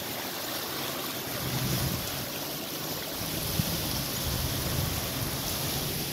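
Rain-swollen creek running over its banks into a yard after days of Hurricane Helene rain, a steady broad rush of flowing water with no talk, holding even throughout.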